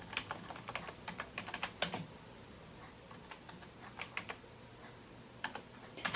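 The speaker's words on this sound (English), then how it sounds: "I'm gonna do 2 clicks in that cell and type business admin." Fingers typing on a computer keyboard in quick irregular bursts of crisp clicks, close and fairly quiet, with short pauses between runs of keystrokes and no voices.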